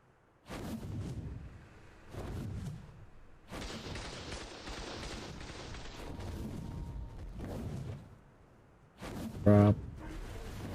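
Turrets fire in ARK Survival Ascended in several separate bursts of booming shots with gaps between them, at moderate loudness. A voice talks in between.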